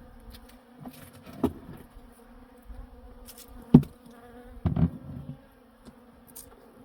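Native honeybees swarm around a single, fully packed hive set high up away from houses, a steady close buzzing hum with a few louder passes near the microphone.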